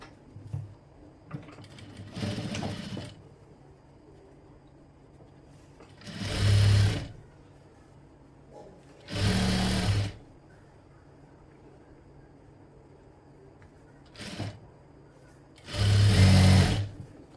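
A sewing machine stitching a double-folded fabric edge on a long frock, running in several short bursts of a few seconds each with quiet pauses between them.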